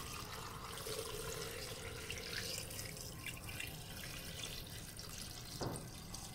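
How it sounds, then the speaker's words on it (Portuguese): Water is poured from a tap or jug into a pan of sun-dried beef browned in clarified bottle butter, for creamy rice, making a steady close splashing fill with a brief clink near the end. "Então vamos acrescentar água agora, ó."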